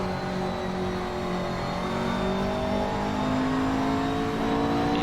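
McLaren GT3 race cars run on a circuit during a GT3 race, their engines a steady mid-distance drone with rising revs that stays loud throughout.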